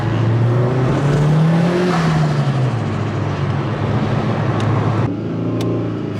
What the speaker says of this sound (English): This fucking Mazda with this exhaust.